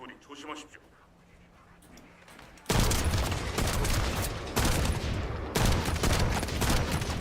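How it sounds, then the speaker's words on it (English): Video game gunfire in sustained loud automatic bursts that start abruptly after a quieter stretch of talking, with brief pauses between bursts. "I'm shooting a rock"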